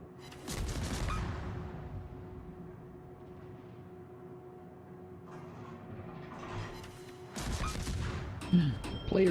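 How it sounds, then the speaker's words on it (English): Naval gunfire in World of Warships, with heavy booming salvos rolling in at the start and again near the end and a low, rumbling drone between them, all fairly distant. "Player shooting me."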